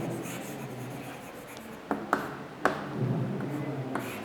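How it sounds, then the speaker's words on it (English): Pen writing on paper or board, soft scratchy strokes with a few sharp taps, close and quiet over a low room hum, with no speech. "I'm going to write the definition here of an adjective."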